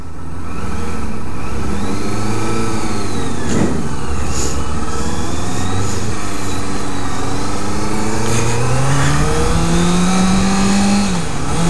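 A 2014 Honda CBR650F with a 650cc inline-four engine revs loudly and close by, its pitch climbing and falling in smooth sweeps before a sharp high rev near the end.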